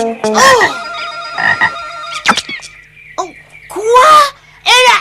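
A cartoon frog croaks loudly several times in a row, with short gaps between the bursts of croaking.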